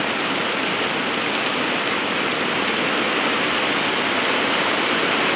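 Steady, heavy rain pours down around a house, a dense continuous hiss that stays even and loud throughout with no voices.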